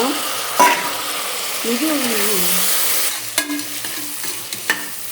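Brinjal sautés with onions in a pan, a steady sizzle with spatula scrapes and clinks against the pan, and a brief voice speaking over it.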